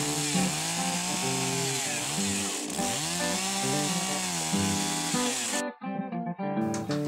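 A chainsaw cuts through wood with a loud, continuous buzzing whine that rises and falls in pitch as it bites into the cut, close by, then briefly drops out before roaring back.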